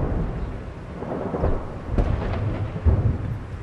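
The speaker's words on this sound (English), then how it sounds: "The soundtrack of the Damascus day is shelling." Artillery shelling in Damascus rumbles as low, distant booms, several dull thuds rolling through a steady background over a few seconds, with no talking.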